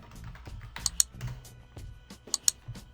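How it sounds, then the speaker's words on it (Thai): A computer keyboard being typed on in short, quiet bursts of soft key taps, with a few sharper clicks standing out, close and alone. "ผมจะลองพิมพ์คำว่าฟังก์ชัน ลงไปนะ"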